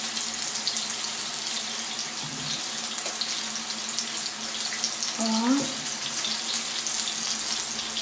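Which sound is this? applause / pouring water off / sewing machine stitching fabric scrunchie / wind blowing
pouring water off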